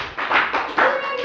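Hands clap a few times in quick, close succession, sharp and near, during a children's color-recognition activity with blue colors.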